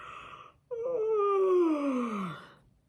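A long drawn-out human yawn that rises sharply, then slides down in pitch and fades over about two seconds, heard alone after a brief quiet breathy lead-in.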